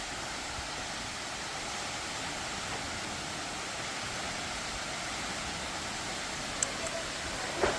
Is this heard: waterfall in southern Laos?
yes